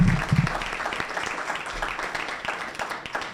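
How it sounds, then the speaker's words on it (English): An audience at a sports management competition applauds a judge being introduced, a moderate round of clapping with a brief low thump at the start and scattered individual claps standing out. "Round of applause, please."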